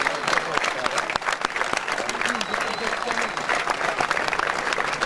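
Sustained audience applause at a philharmonic band concert during the Festas da Graciosa, steady and dense throughout with overlapping claps and a faint voice mixed in.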